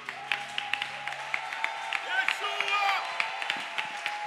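A church congregation claps and cheers in praise of God during a service, with sharp irregular claps over a sustained hum of voices and an instrument tone beneath, moderately close and building briefly toward the middle.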